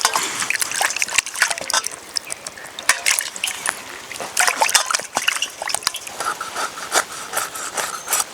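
Water trickles and splashes steadily as a scaled hilsa fish is rinsed by hand before cutting, with continuous sloshing and occasional scraping close by.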